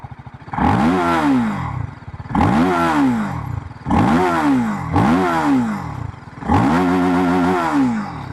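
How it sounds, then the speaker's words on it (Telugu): A TVS Apache RTR 310 motorcycle's exhaust barks through four loud, close revving bursts, each rising and falling in pitch with brief pauses between them, and no voices are heard. "ఒకసారి ఎగ్జాస్ట్ సౌండ్ చూస్తుంది చూడండి."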